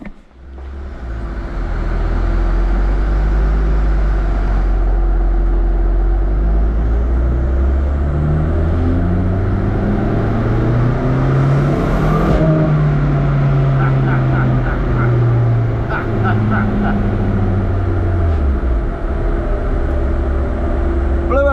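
A Renault 5 GT Turbo engine fitted in a van runs up through a dyno power pull, its loud turbocharged drone climbing steadily in pitch for about ten seconds, then easing back down as it winds off; a voice talks briefly near the end.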